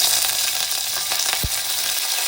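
Mustard seeds, cumin and curry leaves sizzle in hot oil while sorakaya curry is made at home, a close, steady frying hiss with small crackles that cuts off abruptly at the end.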